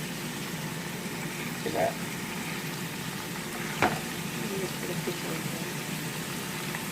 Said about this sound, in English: as we leave the burger to be cooking, still cooking